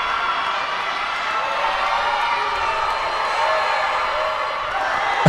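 A crowd at a 21U basketball finals game in a gym cheers and roars in a steady, continuous wash of noise, with a commentator talking over it throughout.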